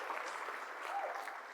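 Conference audience at a Vue.js developer event applauds in a brief burst of steady clapping, faint and without voices.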